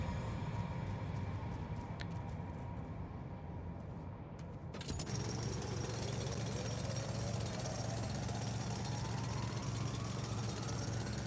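A mining drill in The Alters bores through loose rocks, a loud steady mechanical grinding and rumble that kicks in sharply partway through and keeps up a continuous, rising whine to the end, with no talking.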